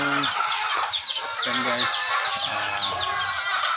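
Chickens cluck and chatter continuously nearby, with a rooster's call mixed in and a voice briefly speaking over the flock.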